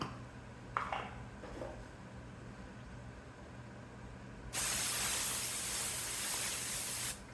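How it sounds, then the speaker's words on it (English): A steady Pam cooking spray aerosol hisses loudly for a couple of seconds over a casserole dish after a few faint clinks, then cuts off. "I'm just going to spray it with Pam."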